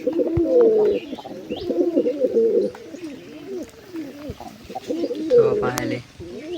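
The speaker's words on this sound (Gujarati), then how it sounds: "સવા લાલ કબૂતરની જોડી છે" A pair of red pigeons cooing up close, with repeated throaty, rolling coos in short bursts and faint chirps in the background.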